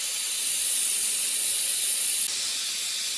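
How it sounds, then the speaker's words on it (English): A gas torch roars in a steady broadband hiss, heating metal in a crucible for sand casting a thin shell; the loud, continuous flame noise holds alone with only a slight drop near the end. "Hold your torch on the metal for an extra 10 seconds just to really make sure it's as hot as it can be."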